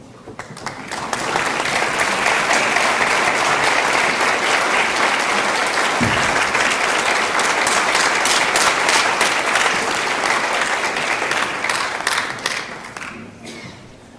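Sustained applause from a large crowd at a university honors convocation, a dense wash of clapping that holds steady for several seconds before tapering off.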